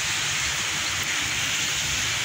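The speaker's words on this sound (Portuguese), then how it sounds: "Muita chuva, família, aqui." Steady, dense hiss of heavy rain pouring down on a street by the cathedral hillside in Maceió, Brazil, loud and continuous with no pauses or voices.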